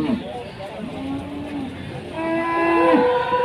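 Large Simmental cattle at a livestock market let out several drawn-out moos, one long low call and then higher lowing, with someone talking and the market crowd murmuring around them.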